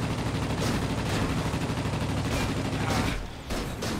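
Dense gunfire and impact noise in World of Warplanes as a warplane is struck from behind by an enemy rear gunner: a continuous loud rattling barrage with short bursts, a brief dip, then a final flurry.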